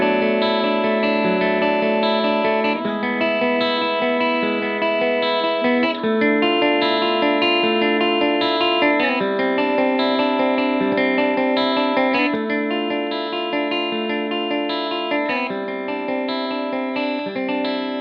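Lightly picked electric guitar runs through an analog compressor pedal on a boutique pedalboard, each note evened out and sustained in a smooth, continuous melodic line with a shimmering, effect-laden tone.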